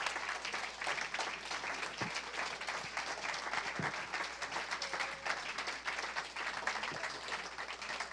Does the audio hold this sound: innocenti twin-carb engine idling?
no